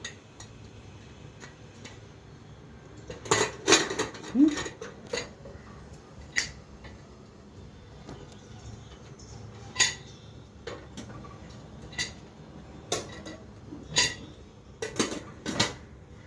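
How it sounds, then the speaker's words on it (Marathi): A metal lid set onto a pressure cooker whose whistle has been removed, making a series of sharp clinks and clatters of metal on metal with irregular spacing and quiet gaps between them. "फक्त लीड लावून ठेवतो, त्याला काही शिट्टी वगैरे आपल्याला काढायची नाही आहे."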